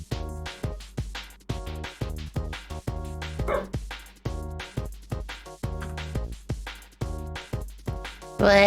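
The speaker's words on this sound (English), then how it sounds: "Why is she barky?" A dog barks and yips repeatedly in steady, rhythmic bursts, close and fairly loud, with a whimpering edge, over a continuous background tone.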